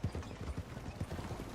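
Horse hooves clip-clopping in the Red Dead Redemption 2 video game, a fairly quiet, regular walking rhythm of soft low thuds with faint creaking, no voices.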